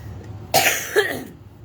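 Two quick, close coughs in succession, the first slightly harsher, followed by a short exhale into quiet.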